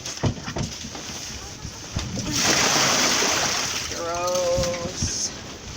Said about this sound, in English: Hey, Jerome, you can be in the spotlight for a second while we dump the pool